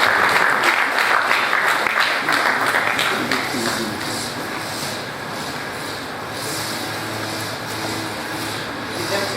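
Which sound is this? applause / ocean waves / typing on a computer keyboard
applause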